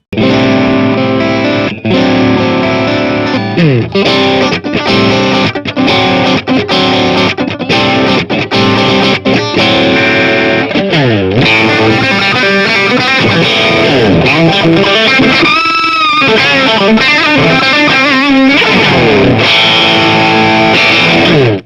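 Electric guitar heavily overdriven through a BOSS OD-3 pedal, playing loud, high-gain riffs and sustained chords for about twenty seconds, with chugging palm-muted passages and squealing harmonics, no voices.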